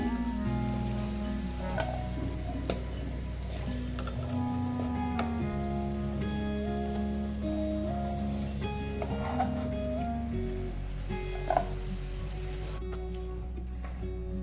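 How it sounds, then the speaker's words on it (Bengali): Potato pieces fry in hot oil with a steady, dense sizzle and bubbling that continues without a break, loud and close, with occasional faint clinks. "আমার আলুটা খুব সুন্দর করে ভাজা হয়ে গিয়েছে"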